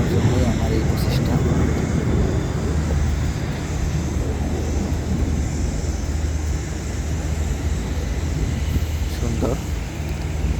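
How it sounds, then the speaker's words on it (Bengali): A MiG-29 fighter jet roars overhead as it flies and climbs, a loud, broad, continuous rumble that holds steady and fades slightly toward the end, with occasional talk beneath it. "এই বিমানটি এখন যথাসম্ভব আবার উপরের দিকে উঠবে, দেখতে থাকুন।"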